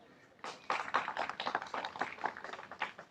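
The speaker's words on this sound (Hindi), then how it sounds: "आप अपने लिए ही तालियां बजाइए" An audience at a pension rally in Delhi claps, a sparse scattering of handclaps that builds into a brief, moderately close round of applause.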